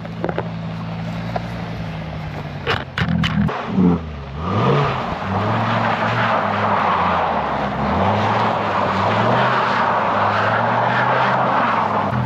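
A Lamborghini supercar engine droning and revving as the car spins donuts on an ice track in Canada, loud and close with rising and falling pitch, a brief burst of clatter partway through, no talk.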